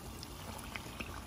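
Battered fish dropped into hot frying oil, a brief burst of bubbling and sizzling with small crackling pops, close and alone.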